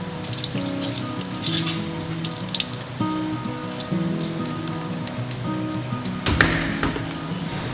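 Water runs steadily from the cold side of an RV faucet during de-winterizing, a continuous hiss with a faint tonal hum beneath it and a brief louder splash near the end.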